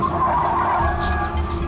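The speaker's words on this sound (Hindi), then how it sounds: "एक मिनट, गाड़ी रोको।" A car skidding as it brakes to a stop on a highway near Mumbai, a sustained, loud tire-and-road roar with no one talking.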